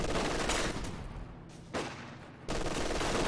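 Machine gun fire rattles in Company of Heroes 2, dense sustained bursts broken by a short lull, then heavy firing resumes, fairly loud and continuous.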